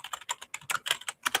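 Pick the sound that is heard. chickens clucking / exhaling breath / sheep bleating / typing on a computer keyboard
typing on a computer keyboard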